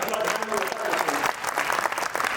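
Audience applause at a Marwari kavi sammelan poetry gathering in Gondia, a dense, steady wash of many hands clapping together, fairly loud and continuous throughout with some crowd noise mixed in.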